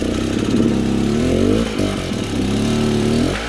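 A trail motorcycle engine revs steadily and loudly up close on a rough off-road trail in Arapongas, Paraná, with a brief dip in the middle before the throttle climbs again, no voices heard.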